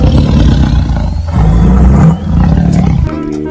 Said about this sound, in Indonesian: Yang ini macan teman-teman.